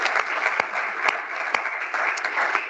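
A room of attendees at an AI forum break-out session on trustworthy AI claps warmly for a speaker, dense and even applause with a few sharper claps, brief and fairly close.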